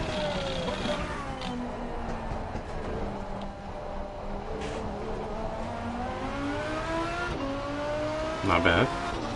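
Race car engine lapping in Assetto Corsa on PS5, droning steadily with its pitch rising and falling through the gears and corners, fairly loud and continuous, swelling to a brief louder burst near the end.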